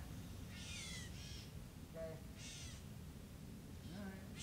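Faint bird calls at a swamp campsite, a few scattered harsh caws and chirps at a distance over a soft background hiss.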